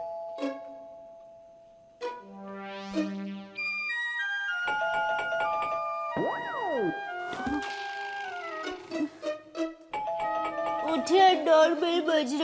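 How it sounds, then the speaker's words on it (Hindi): A doorbell chimes several times in a melodic ding-dong pattern, fairly loud and close, with a voice speaking between and over the rings. "डोरबेल बज रही है।"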